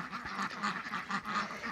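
Domestic ducks and geese, including young geese, calling together at a poultry farm, a steady run of nasal quacks and honks close by, with no voices.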